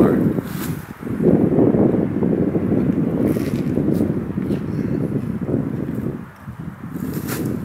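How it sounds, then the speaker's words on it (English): Cold wind blows steadily at a winter lakeside camp near a hot tent, around 34 to 35 degrees, as a loud, continuous rushing buffet against the microphone that rises and falls in gusts. "it's just the wind. Probably 34, 35 degrees right now. The wind just makes it feel a lot colder."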